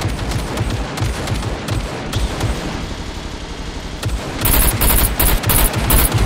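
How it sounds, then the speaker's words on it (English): Rapid automatic gunfire from a video game battle, fired at a mech, rattles in dense continuous bursts throughout, growing louder and harsher near the end. "I literally just spent my time shooting a mech."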